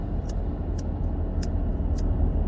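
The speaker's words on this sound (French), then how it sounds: "Il y a des cars, il y a des camions." Road traffic with buses and trucks rumbles past as a dense, steady low roar, with a few faint sharp clicks or hisses repeating over the continuous drone; no one speaks.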